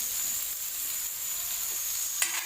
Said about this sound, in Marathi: असंच आपलं कच्चा कांदा टाकून असं मस्त फ्राय करूनच घ्यायचं हे